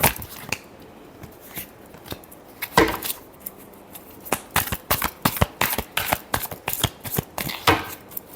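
Tarot cards shuffled by hand during a reading, a steady run of crisp, close paper flicks and soft slaps that grows quicker and denser toward the end.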